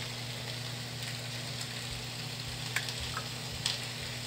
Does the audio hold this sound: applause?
no